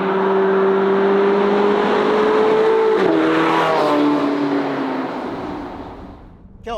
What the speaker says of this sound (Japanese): 今日ドライブしているポルシェ918スパイダーはポルシェカレラ GT の後継モデル